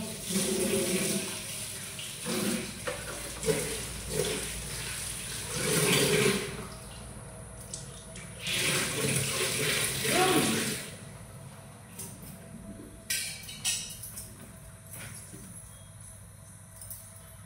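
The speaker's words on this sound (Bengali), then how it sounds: "আমাকে দিয়ে কড়াই মাজাচ্ছে, সব রান্না নিজে করছে তো কড়াইটাও নিজেই মাজো।" A wok (kadai) being scrubbed and washed under a running tap, with gushing water in uneven bursts, clattering metal and scraping, while people talk in Bengali nearby.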